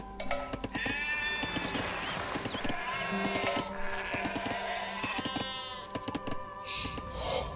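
Sheep bleat repeatedly in Age of Empires II: Definitive Edition, a string of wavering, nasal cries that overlap one another, with soft clicks and game sounds underneath.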